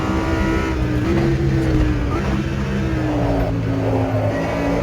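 An Audi R8 racing around a track, its engine droning steadily with rising and falling pitch as it accelerates and holds speed, loud and close with no talk over it.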